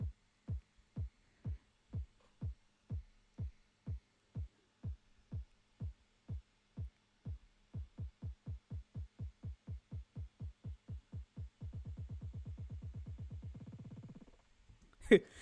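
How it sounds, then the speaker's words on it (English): An electronic kick roll in a house music breakdown: evenly spaced low thumps that steadily speed up into a rapid buzzing roll, then cut off with a brief noisy burst at the end. "I like this to make a snare roll or kick roll"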